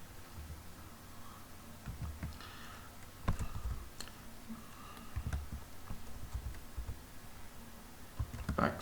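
Computer keyboard typing a command while installing Arch Linux, faint scattered key clicks at close range over low background noise.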